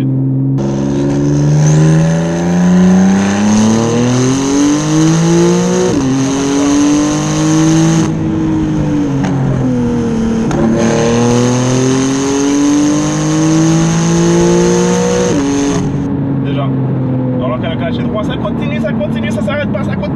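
A turbocharged Porsche 911 GTS phase 2 engine climbs toward 7200 rpm, its loud, close growl rising in pitch through several gear changes before easing off near the end.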